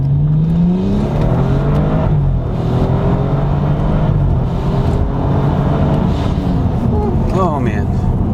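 A modified BMW F30 drives and accelerates, its engine droning loudly from inside the cabin and rising in pitch, while people talk over it.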